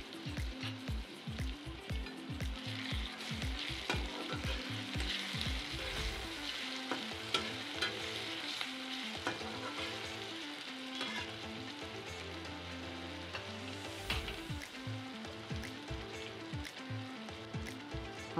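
Ginger garlic paste and spices frying in a pan for Marathi-style egg fried rice, a steady loud sizzle with repeated stirring scrapes running throughout, no talk.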